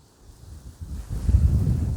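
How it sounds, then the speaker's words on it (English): Low, rumbling wind gusts buffet the microphone in a garden during a storm, starting faint and swelling into a steady roar. "A windy day"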